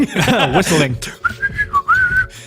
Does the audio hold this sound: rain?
no